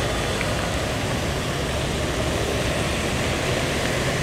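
Heavy rain pours over a tree-lined street on Đường 3 Tháng 2 in Saigon's District 10 as a dense, continuous, loud hiss with no breaks, and no talk can be heard over it.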